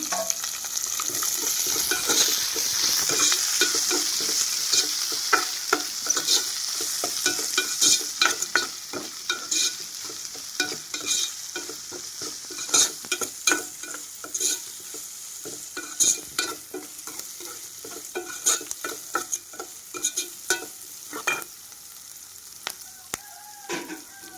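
A tempering of onions, cumin seeds and green chillies fries in a pan, a loud crackling sizzle at first that settles as repeated spatula scrapes and taps continue near the microphone.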